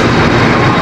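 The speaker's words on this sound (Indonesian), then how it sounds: "Kereta api Serayu masuk jalur" Serayu long-distance passenger train entering the station in the rain, a brief loud steady rumble of rolling wagons.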